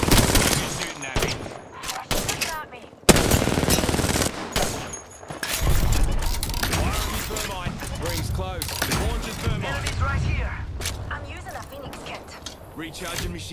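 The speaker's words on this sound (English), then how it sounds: "You're shooting at me." Rapid gunfire in a shooter video game, dense automatic bursts and single shots with explosions and mechanical clatter running continuously and loud, with speech mixed in throughout.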